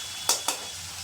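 Ivy gourd (tondekayi) stir-frying in a pan for a palya, giving two quick stirring scrapes against a soft, steady sizzle.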